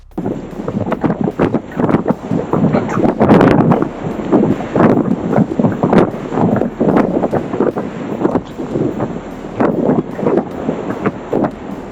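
Strong gusts of wind at a surf spot buffet the microphone in loud, rushing roars that swell and ebb continuously, with no voices.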